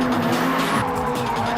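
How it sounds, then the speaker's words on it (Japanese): Car tires squeal and skid loudly and continuously during a D1 drivers' drifting exhibition, with a sustained high screech over engine roar, close and intense throughout. "there was even a drifting exhibition performed by D1 drivers"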